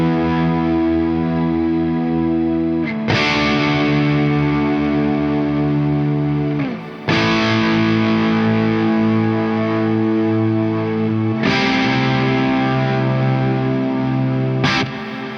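Electric guitar played through a Neunaber Immerse Mk1 reverb pedal with heavy gain, sustained distorted chords ringing into a huge reverb wash, re-struck roughly every four seconds, loud and alone.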